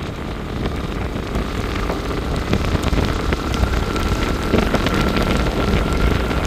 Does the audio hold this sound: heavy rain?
yes